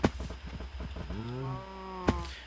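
A ridable cow from the Minecraft Engender mod gives a long, clear, drawn-out moo that bends upward in pitch, framed by a few thuds and clicks before it and a sharp knock after.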